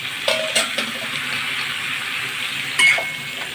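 Tomato and cabbage fry in a kadai for a winter cabbage curry, a steady close sizzle with several sharp stirring scrapes and clinks of a spatula against the pan.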